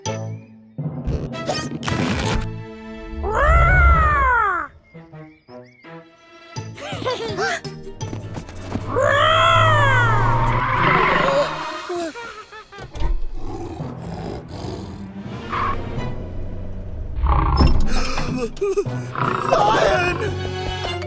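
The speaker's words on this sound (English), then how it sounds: "Lion!" A cartoon lion roars in loud, drawn-out bursts, the roars repeating over a busy stretch of animated sound and music.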